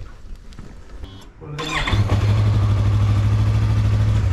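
A Yamaha YZF-R3 motorcycle engine starts up after a brief crank, then settles into a loud, steady idle held close for several seconds.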